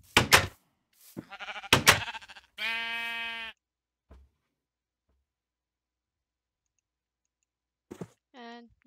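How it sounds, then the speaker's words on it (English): Minecraft sheep bleat in the game: one clear, wavering bleat near the middle and another near the end, between sharp clicks, with silence in between. "Let's dye our sheep and let's breed them."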